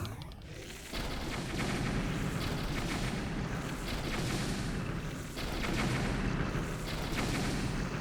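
Dense, rumbling explosions boom continuously as sleeping enemies are blown up at night in Breath of the Wild, with a sudden surge of blasts and a second burst a few seconds later.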